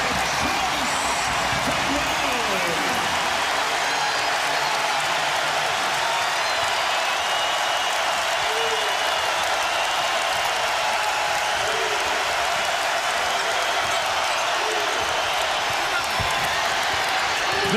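A packed arena crowd roars and applauds continuously throughout a Minnesota vs Wisconsin college basketball game, loud and sustained, with a commentator talking over the noise and occasional ball bounces.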